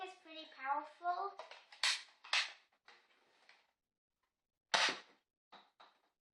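A powerful Nerf blaster fires a few sharp, close pops with gaps between shots, following a stretch of talking at the start.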